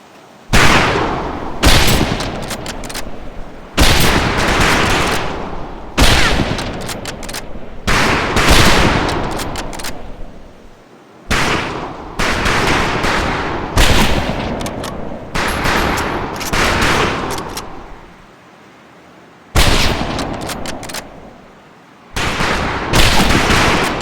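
Rifle gunfire at a target practice range in the Medal of Honor Pacific Assault video game, loud dense volleys of shots in bursts separated by brief pauses, close and continuous with no talk.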